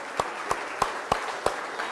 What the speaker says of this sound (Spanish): Un aplauso al Señor, como siempre hacemos.